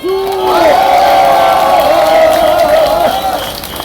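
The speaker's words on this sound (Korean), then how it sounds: "우리 최승재 의원님을 위해서 큰 박수 부탁드립니다, 여러분" A crowd at a political rally roars and cheers steadily and loudly, with shouted whoops over the din and a prominent sustained voice rising above the mass of noise.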